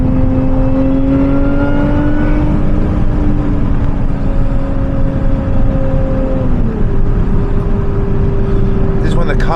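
A 2024 Lotus Emira driving along back roads, with a steady loud engine drone and tire roar that rises and falls as the car accelerates and shifts, holding close and continuous throughout.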